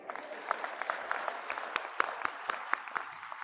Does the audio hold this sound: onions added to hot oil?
no